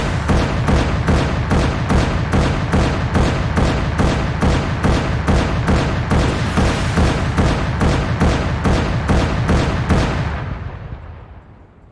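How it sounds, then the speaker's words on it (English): Big cannon firing in the Arma 3 video game, a rapid string of about twenty heavy booming shots at an even rhythm, loud and close, then a long rumbling decay after the last one. "It's just a big gun that fires boom boom."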